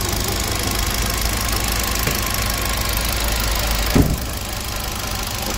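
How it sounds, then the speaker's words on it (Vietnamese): A 2016 Kia Morning with a 1.25-litre engine and manual gearbox idles steadily nearby, a low even hum with a faint rhythmic knock and one brief thump partway through. "êm như máy mới, máy móc khô ráo"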